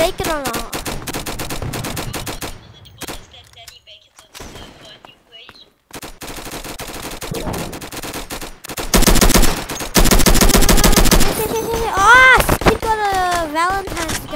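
Valentine's gun in the video game Flag Wars fires in long rapid automatic bursts, loud and close, broken by short pauses and mixed with other game effects.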